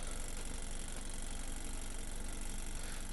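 A 2017 BMW X1 idles steadily, its engine a continuous mid-pitched hum, with faint light clicking from the exhaust flaps mixed into the broadband rumble throughout.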